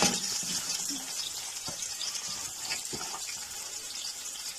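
Chopped onions sizzle in hot cooking oil, a steady bright frying hiss with a few soft clatters of stirring, close and moderately quiet.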